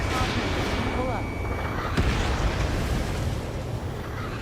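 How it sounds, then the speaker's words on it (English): Anti-aircraft fire in Ace Combat 7 rumbles as a dense, continuous barrage of booms and bursts, with a loud thump near the middle. Jet engine roar and cockpit warnings run underneath, and someone talks over the noise. "I almost got hit by AA fire"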